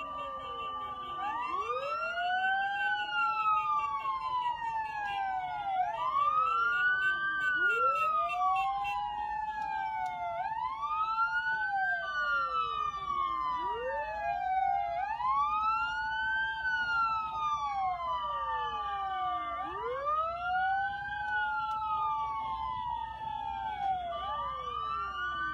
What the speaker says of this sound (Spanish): Me imagino que es debido al sonido de las sirenas.